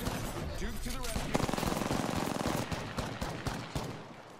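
Rapid automatic gunfire and sharp shots in a close-range Apex Legends fight, dense bursts layered with game effects and a talking voice underneath throughout.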